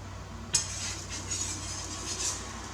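A thin metal fish turner scrapes and taps against a frying pan while breakfast food with cheese and sweet tomatoes is flipped, one crisp clink followed by soft scraping and gentle sizzling.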